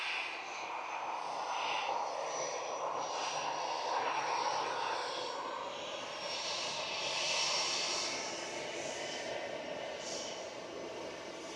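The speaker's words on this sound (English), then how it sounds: "Next up for departure is another EasyJet, just rolling into position on 23 left" An EasyJet jet airliner departs runway 23 left at Manchester Airport, a faint, distant engine roar rising and falling in two broad swells with no talk.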